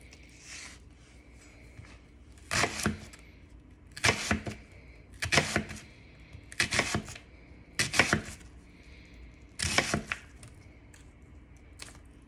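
A knife chops through a smoked turkey thigh on a board, with about seven sharp, evenly spaced cuts roughly every second and a half over a quiet kitchen background.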